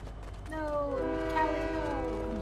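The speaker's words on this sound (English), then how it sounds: "Train." Train passing in the Apex Legends video game, a drawn-out tonal horn-like sound with sliding pitch over a steady rumble, with a voice speaking briefly underneath.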